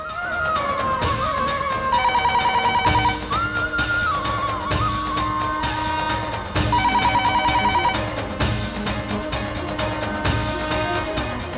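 A telephone rings repeatedly in a home drama scene, warbling electronic ringtone bursts at a steady rhythm over background music, loud and sustained throughout with no talking.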